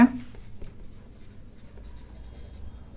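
A marker or chalk scratches across a classroom board during a lesson in short, faint strokes after a brief louder start.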